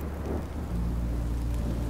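Continuous rain in the video game Minecraft Story Mode hisses steadily with a deep low rumble underneath, a dense, unbroken downpour heard from close by.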